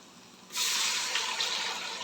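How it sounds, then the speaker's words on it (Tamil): Water pours steadily into a cooking pot while pepper rice is being made, starting abruptly as a loud continuous rush after a quiet moment and running on without any talking. "இதுலேயே 3 கப் அளவு தண்ணி வைக்கிறேன்."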